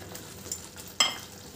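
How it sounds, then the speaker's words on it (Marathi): Steamed soybeans drop into frying masala for a soybean curry, a brief quiet sizzle that jumps into a sharper hiss at the moment they hit the pan. "त्यामध्ये आपण हे सोयाबीन जे वाफवलेत ते त्यात सोडायचे"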